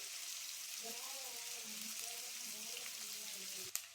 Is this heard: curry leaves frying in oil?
yes